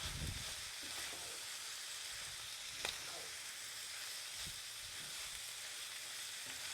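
Rice with minced meat and peas is stirred in a frying pan, giving a steady, close sizzle with an occasional scrape or tap from the utensil and no talking.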